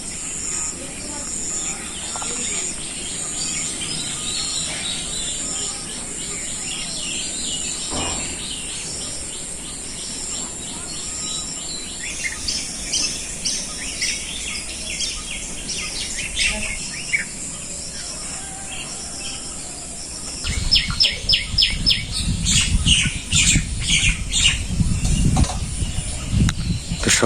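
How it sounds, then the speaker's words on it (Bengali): Morning birds call around a village home, with insects chirring, steady and moderately loud throughout; the chirping grows busier and louder near the end. "সকালবেলা শুধু পাখির ডাকটাই বেশি শোনা যায়"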